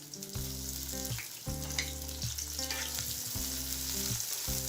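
Chopped onion dropped into lightly heated oil, cooking for a sajna leaf and rohu fish stir-fry, with a steady sizzle and music playing over it throughout.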